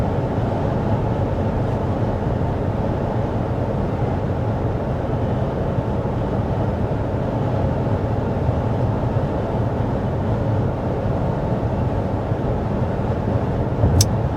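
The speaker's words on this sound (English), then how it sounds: "we're going our designated 55 miles an hour on our strip of road that we test all of our vehicles out" Steady road and tire noise fills the cabin of a 2023 Toyota Corolla Cross Hybrid cruising at 55 mph on a test stretch of road, an even low rumble with a faint whoosh that holds constant throughout, with no talking.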